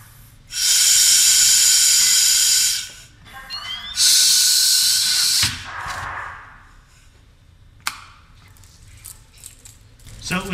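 A Scott SCBA breathing mask free-flows air in two loud, sustained bursts of hiss, each about two seconds long, followed by a fainter hiss, a sharp click and some light rattling.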